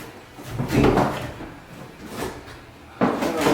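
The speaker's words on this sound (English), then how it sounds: "I'm going to swing the door open" A door swings open while being hung in its opening during installation, giving a few soft wooden thumps and creaks close by, with one sharper knock near the end.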